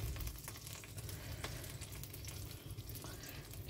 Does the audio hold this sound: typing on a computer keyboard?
no